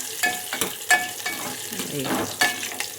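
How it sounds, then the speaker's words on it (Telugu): Green chillies fry in a pan with a close sizzle and crackle, broken by repeated sharp pops and stirring scrapes in an uneven rhythm. "ఇట్లా వేగాలి కొంచెం కలర్ మారాలి పచ్చిమిరపకాయలు మనం తింటే కూడా బాగుంటాయి"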